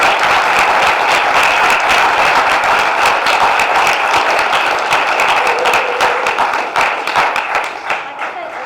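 Loud, dense audience applause at a business presentation, sustained clapping from a full room that tapers off slightly near the end, with no talking over it.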